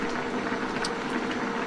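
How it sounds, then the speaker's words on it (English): Sweet and sour sauce simmering in a pan, a steady close bubbling and gentle hiss as it thickens, with no talk. "it's very therapeutic watching all the bubbles and the steam coming off and the liquid gradually getting thicker"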